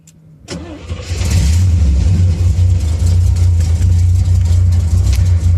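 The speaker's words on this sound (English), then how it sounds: "So it's got a pretty lopey idle." A 1973 Corvette Stingray V8 engine turns over and settles into a loud, loping idle with an uneven, choppy rumble, close by and steady throughout.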